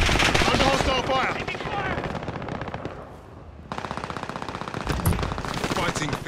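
Video game gunfire in Call of Duty Warzone: rapid automatic bursts crackle loudly and close, pause briefly into a quieter stretch, then resume in dense rattling volleys.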